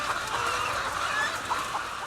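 Caged laying hens cluck and murmur inside a crowded commercial egg-farm chicken house, a dense, continuous chorus of overlapping bird calls heard close.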